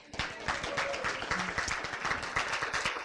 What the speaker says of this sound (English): Applause for Tusse.